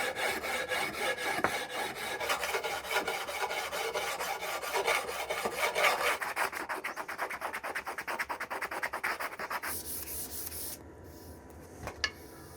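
Steady, rapid back-and-forth rasping of sanding blocks on a wooden cigar box guitar neck, continuing for a long stretch and shifting to a lighter, finer scratching near the end.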